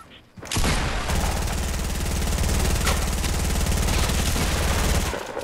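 Rocket explosions in Fortnite Battle Royale: a sustained barrage of dense, booming blasts and crackling bursts that runs for several seconds, loud and close, with no talk over it.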